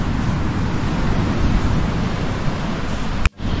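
Surf rolls in at Seal Rocks Beach on a rainy day as a steady, broad wash of waves, loud and close with wind buffeting the microphone, cut by a brief knock just before the end.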